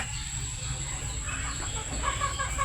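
Chickens cluck softly in short bursts near the end, over a steady background hum and a high whine.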